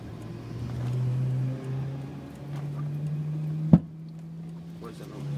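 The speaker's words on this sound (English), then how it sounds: "we're running and we're missing one cylinder" A race car lapping the Nürburgring and missing on one cylinder: a steady, uneven engine drone with one loud, sharp pop near the end, and faint voices underneath.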